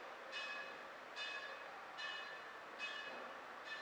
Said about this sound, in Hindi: अब ये घंटी किसके लिए बज रही भैया?